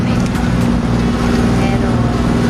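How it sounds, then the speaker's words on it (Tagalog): A boat moves across open sea in strong wind and rough waves, with a loud continuous motor drone, buffeting wind noise and water splashing throughout. "Malakas yung hangin, malakas yung alon kaya magalaw po yung bangka namin."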